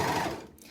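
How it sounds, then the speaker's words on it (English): An overlocker sews across a fabric edge in a brief, close whir that fades quickly toward the end. "I'm going to place it on the edge and just sew across like so."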